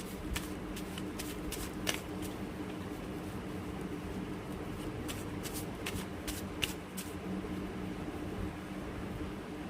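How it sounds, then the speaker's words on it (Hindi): A deck of oracle cards is shuffled and drawn by hand, giving soft continuous rustling with a few sharp riffling snaps and taps, quiet and close over a faint background hiss. "मैं यहाँ पे ऑरेकल कार्ड्स निकालती हूँ"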